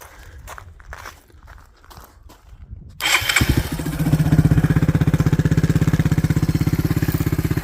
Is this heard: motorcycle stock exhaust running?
yes